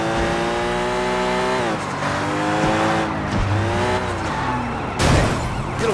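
A car engine revs and shifts through gears with tyres squealing and skidding during a police chase in Sleeping Dogs, loud and continuous, with a sharp jolt near the end.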